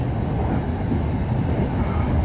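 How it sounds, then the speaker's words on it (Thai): Inside an SRT Red Line electric commuter train in Bangkok, a steady, loud low rumble of wheels and motion runs unbroken, with no voices. "ทำคลิปอยู่บนรถไฟฟ้าสายสีแดง"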